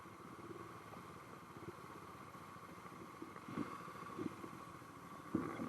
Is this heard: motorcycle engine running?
yes